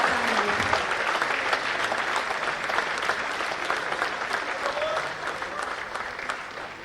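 Dense applause from a large audience at a Marathi Language Day award ceremony fills the whole stretch, steady and loud before easing slightly toward the close.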